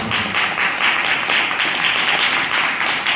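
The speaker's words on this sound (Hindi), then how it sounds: "ताली बजा के परमेश्वर को धन्यवाद।" Congregation clapping at a Hindi church service, dense sustained applause from many hands, loud and continuous throughout with no clear speech.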